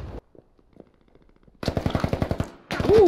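Video game gunfire: a rapid automatic burst of loud close shots in an even rhythm, then a short pause and another burst starting, with a brief blast at the start and quiet clicks between.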